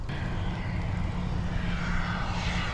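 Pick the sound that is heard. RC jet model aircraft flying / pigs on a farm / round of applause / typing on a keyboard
RC jet model aircraft flying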